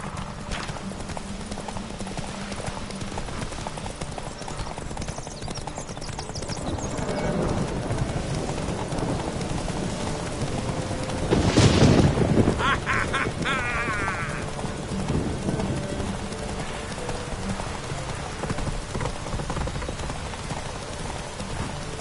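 Horse hooves clip-clopping in The Witcher video game as riders set off, a steady rhythmic beat over a rain-like wash that swells briefly near the middle, with no speech.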